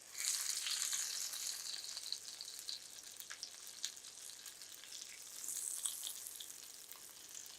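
An egg and flour snack fries in a pan, giving a soft, continuous sizzle and crackle of hot oil that swells and fades slightly, fairly quiet and close.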